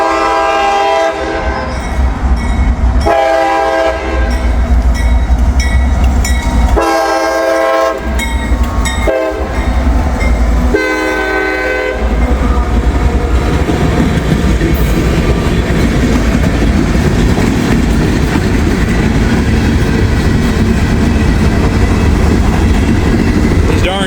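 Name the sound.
CSX freight train passing with horn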